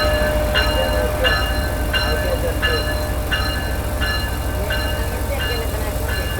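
Stationary GU40 diesel locomotive, number 9013, idling on a Pakistani railway line before heading toward Karachi, a steady low engine drone running throughout with a regular series of brief high metallic tones repeating about every two-thirds of a second.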